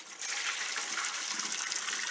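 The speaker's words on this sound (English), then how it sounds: "So I'm going to drain most of the water," Water from a pot of boiled potatoes pours out in a steady, close rushing gush that holds constant throughout, with no one speaking.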